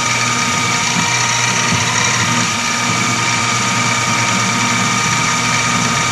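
A milling machine runs steadily and loudly as a 0.124 reamer opens a drilled hole to one thou undersized for a model steam engine crankshaft, a constant mechanical whine and hum with no pauses.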